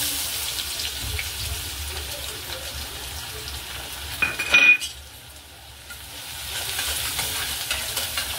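Garlic frying in hot oil in a pan for homemade Schezwan chutney, a steady low sizzle with a brief burst of clattering and stirring midway, then the frying continues quietly.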